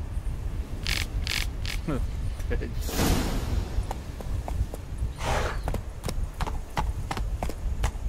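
Hooves of Geralt's horse Roach clip-clopping in The Witcher 3, a steady walking rhythm of distinct hoof strikes with occasional tack rattles, while a person talks over it.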